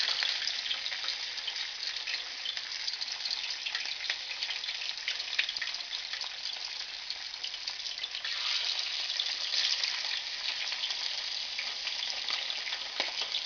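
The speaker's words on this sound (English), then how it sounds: "So I am just placing the fish in the pot," Fish for Jamaican-style escovitch fry in hot oil in a pot, a steady, close crackling sizzle that swells slightly partway through, with no one talking.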